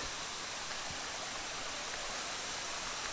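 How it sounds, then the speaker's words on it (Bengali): A rocky stream tumbles steadily along the upper course toward Khoiyachora waterfall in Mirsarai, a loud, continuous broadband rush of flowing water with no voices. "পানি সুন্দর সুন্দর স্রোত আছে"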